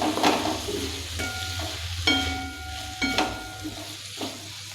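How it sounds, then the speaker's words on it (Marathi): Salt is stirred into ghevda beans frying in a pan. A steady soft sizzle runs under several sharp scraping and clinking strokes of a spoon against the pan, heard up close with no talk. "मीठ टाकलं की मीठ सगळीकडे व्यवस्थित मिक्स करून घ्यायचं आहे"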